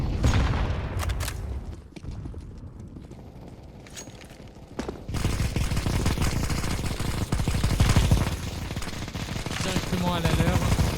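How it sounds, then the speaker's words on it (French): Rapid bursts of automatic gunfire in a competitive Counter-Strike match, sounding chaotic and continuous. The shots grow denser and louder in the second half, with a voice faintly audible underneath. "Ça se tire dessus."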